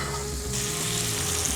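Hot oil sizzles steadily and loudly around a bison New York strip steak with herbs in a pan, a dense crackling hiss that continues unbroken and close up.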